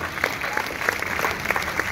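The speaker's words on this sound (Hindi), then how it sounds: "एक बार इनके लिए भी ताली बजाइए।" Audience at a comedy kavi sammelan poetry gathering claps loudly and continuously, a dense close burst of applause filling the room.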